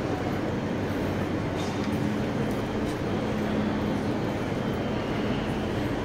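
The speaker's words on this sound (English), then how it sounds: "So we'll just film this train" Passenger train at a Paris station, Eurostar nearby, a steady low rumble and hum that holds throughout, with a faint tonal whine riding over the broad station noise.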